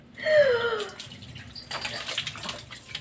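Water runs steadily from a tap into a bath for an outdoor bathing challenge, a brief bright splashing rush up front settling into a continuous gushing flow.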